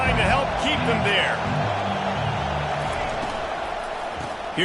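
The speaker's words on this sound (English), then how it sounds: "and this crowd trying to help keep them there." A stadium crowd at an American football video game keeps up a constant roaring murmur, with a commentator talking over it throughout.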